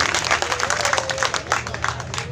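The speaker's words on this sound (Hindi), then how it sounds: "ज़रा अपनी तालियों की गड़गड़ाहट से मुझे इजाज़त दीजिए" A mushaira audience breaks into applause, a thick, continuous roar of many hands clapping, loud and close, with voices mixed into the crowd.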